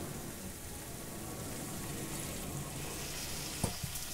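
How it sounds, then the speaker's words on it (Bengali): A little water goes into pumpkin and potato cooking in spices, leaving a faint, steady sizzle with a brief soft clatter near the end, with no speech. "নিয়ে এইবারে আমি সামান্য একটু জল এর মধ্যে দিয়ে দিলাম"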